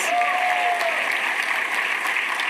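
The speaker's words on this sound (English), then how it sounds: "Let's give them a round of applause." Steady applause from the audience at a film festival awards show, honoring the evening's sponsors; a dense, even wash of clapping that holds at full strength throughout, with no talk over it.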